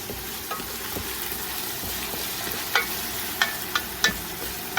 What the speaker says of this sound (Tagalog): And usually I'll just put the ginger as well. Saute everything.